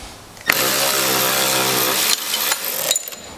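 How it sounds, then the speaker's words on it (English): A Milwaukee power ratchet spins a bolt loose while a wrench holds the other side, giving a loud, steady high-pitched motor whir for about two seconds that cuts off, followed by a few short quieter bursts. "But I can use the Milwaukee ratchet and I can break it loose just by ratcheting it."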